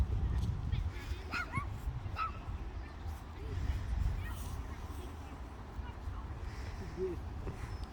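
A small dog gives soft yips, brief whimpers and a couple of barks during a summer ride in London, close by over a steady low background rumble.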